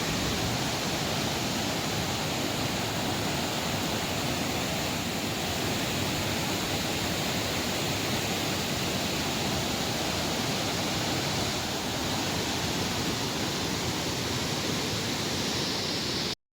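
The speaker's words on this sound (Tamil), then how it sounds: "இந்த ஃபால்ஸ் தாங்க மிகப்பெரிய ஃபால்ஸு." Athirapally waterfall roars in a steady, dense, broadband rush of falling water, loud and constant throughout with no voices.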